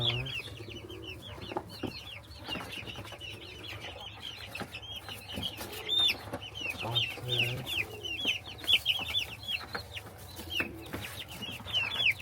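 Large chicks, just moved into a new coop, chirp and cluck in a busy overlapping chorus of high peeping calls, near and fairly quiet, with some faint rustling.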